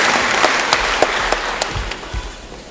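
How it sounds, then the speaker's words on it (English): A crowd at a high school graduation ceremony claps steadily, the applause loud at first and gradually thinning and fading over a few seconds. "let's give another round of applause to both of these two"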